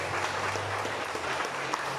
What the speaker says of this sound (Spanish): Aplausos, Señor, por mi hermana Estepita